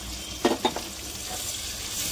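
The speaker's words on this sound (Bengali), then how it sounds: "রসুন এগুলো দিয়ে চিংড়ি মাছ ভাজবো" Shrimp fry with garlic in hot oil in a steady, close sizzle that runs throughout, with a couple of quick stirring scrapes near the start.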